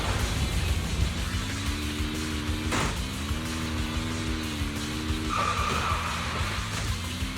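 Race car skidding on a track in the video game Zenless Zone Zero, a droning engine with tire screech and a sharp burst midway, steady and loud with no voices.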